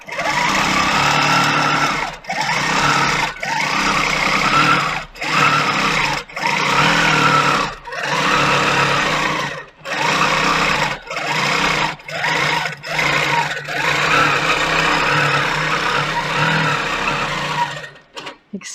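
Handi Quilter longarm quilting machine stitching couching wool onto a quilt top, a loud steady mechanical whir broken by short pauses every second or two, then stopping near the end.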